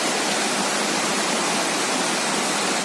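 Water from a very tall waterfall pours down in a dense, steady roar, loud and unbroken throughout, with no voices over it.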